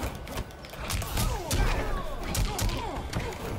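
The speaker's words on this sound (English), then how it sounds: "the sounds of his metal fist hitting a person is honestly pretty" Heavy thuds and smacks of a metal fist striking a fighter in Mortal Kombat 11, several impacts in quick bursts over game sound, with a voice occasionally heard.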